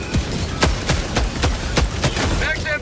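Rapid volleys of gunfire from a powerful weapon in the video game Helldivers 2, with about eight loud, evenly spaced shots ringing out close up amid other game noise.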